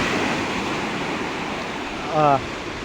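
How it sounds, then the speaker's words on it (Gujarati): Continuous rushing water from an overflowing village lake roars steadily throughout, broad and loud, with a brief voice near the end. "લક્ષ્મી તળાવમાંથી જઈ રહ્યું છે પાણી"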